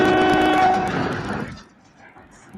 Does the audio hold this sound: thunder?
no